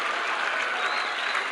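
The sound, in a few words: cricket crowd cheering as West Indies win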